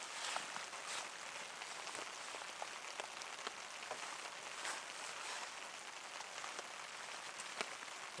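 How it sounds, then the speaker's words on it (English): Steady rain falling on a wet bushcraft camp in the woods, a dense even patter with scattered sharper drops striking nearby surfaces, continuous and fairly soft throughout with no talk. "She's raining."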